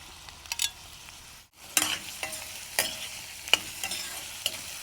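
Shallots and coconut pieces sautéing in coconut oil in a clay pot, with a continuous close sizzle broken by repeated spoon scrapes and stirring knocks and a brief pause partway through.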